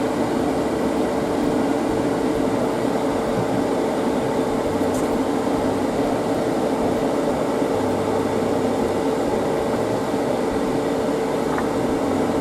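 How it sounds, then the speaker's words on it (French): A ventilation fan runs steadily at an airbrush workstation, a constant, even whooshing hum that holds at the same level from start to finish with no talk over it. "je vais allumer, pardon, la ventilation"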